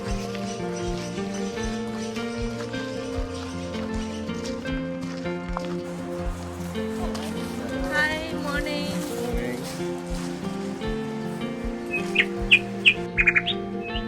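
Birds chirp beside a river along a forest walking trail near Bright, Victoria, with short bright calls rising near the end over a steady musical bed.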